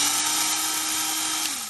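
A Ryobi electric drill runs steadily with a close, loud, continuous high whine whose pitch dips slightly near the end, with no talking.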